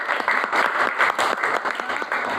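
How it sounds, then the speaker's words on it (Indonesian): Schoolchildren in a classroom clap their hands together, a close, lively burst of uneven claps with a rough, rhythmic pulse. "Ayo semuanya tepuk tangan"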